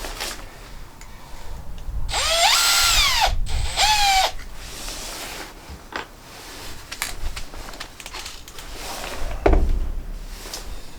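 A power drill drives screws into deck boards, with two whining bursts of a couple of seconds each, followed by quieter handling clatter and a soft thud near the end.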